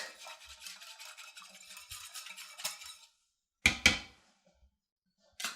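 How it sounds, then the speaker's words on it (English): Whisking a creamer and milk mixture for miniature butterbeer pie pudding, a quick rhythmic scraping of a whisk in a bowl for about three seconds, then silence and a couple of sharp clinks. "So I'm just going to give this a good whisk."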